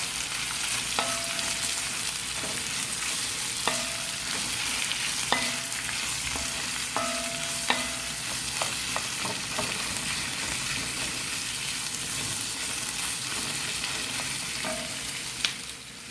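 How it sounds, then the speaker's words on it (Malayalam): Quail roast frying steadily in a pan while being stirred, a continuous sizzle with repeated clinks of the spoon against the pan, close and without talk. "എന്നിട്ടൊന്ന് നല്ലപോലെ ഇളക്കി കൊടുക്കുക."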